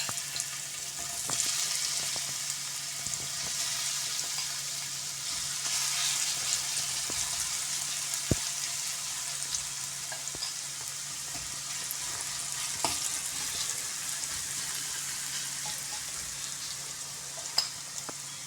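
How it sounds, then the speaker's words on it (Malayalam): Soya chunk mix frying in hot coconut oil, a steady close crackling sizzle that runs the whole time with occasional louder pops and no talking. "അപ്പോൾ ഈ മിക്സ് ചെയ്ത് വെച്ചേക്കണ ഇതിലിട്ടിട്ട് നമുക്ക് വറുത്തെടുക്കാം."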